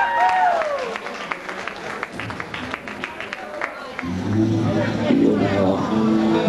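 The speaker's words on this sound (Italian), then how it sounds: "Un applauso." Audience applause rises in sharp, scattered claps for several seconds, then gives way to a fuller, tonal sound in the final stretch.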